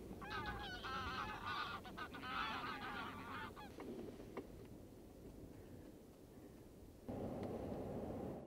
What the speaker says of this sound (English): Yeah, they're just dropping in now. That's pink feet that's dropping in.